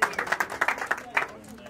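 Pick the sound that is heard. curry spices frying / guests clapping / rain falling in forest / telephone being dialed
guests clapping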